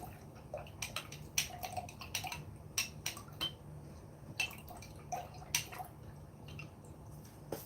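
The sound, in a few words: washing out a paint brush in water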